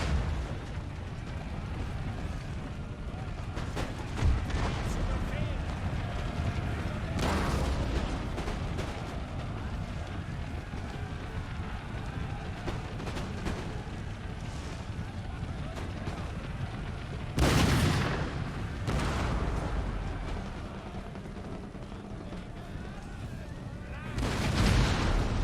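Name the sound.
cannon artillery fire in Empire: Total War video game battle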